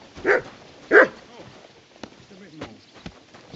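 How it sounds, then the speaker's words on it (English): Two loud dog barks close by in the video game Kingdom Come: Deliverance II, followed by quieter scattered clicks and footstep-like taps. "Why are you barking?"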